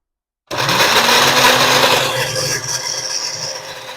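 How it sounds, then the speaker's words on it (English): A blender blending pomegranate shells and seeds roars loudly and steadily for a few seconds, starting abruptly after a brief silence and then easing slightly as it keeps whirring. "I'm gonna cover it, the blender, and put it in mix mode"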